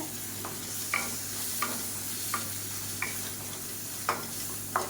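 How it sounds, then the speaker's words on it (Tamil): Tomato, ginger garlic paste, curry masala and turmeric sizzle softly in hot oil while a spoon stirs and scrapes the pan in regular strokes, about one every second, close and quiet with no talk. "மீடியம் சைஸாக ஒரு தக்காளி பொடியாக நறுக்குனதை சேர்த்துக்கலாம் இப்போ இதில் ஒரு டீஸ்பூன் போல் கறி மசாலா தூள் கொஞ்சமாக மஞ்சத்தூள் சேர்த்து வதக்கி விட்டுக்கலாம்"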